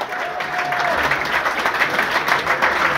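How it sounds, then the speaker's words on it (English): A room of guests applauds steadily at a football match hospitality event for a Carabao Cup third-round tie between Bradford City and Middlesbrough, a dense sustained clapping with no talk over it. "And one final applause for Daniel Oyagoke."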